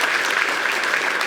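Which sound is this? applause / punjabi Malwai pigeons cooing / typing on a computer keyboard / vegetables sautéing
applause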